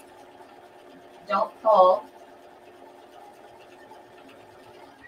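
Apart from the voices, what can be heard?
sewing machine stitching a curved edge of vinyl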